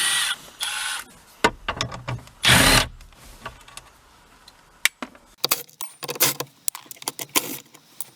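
Screws come out of a metal spring plate in a wrecked Toyota, heard as short power-tool whirs and bursts with metallic rattles and jangling clinks between them, close and uneven.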